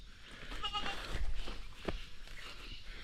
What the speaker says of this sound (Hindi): बकरियाँ हैं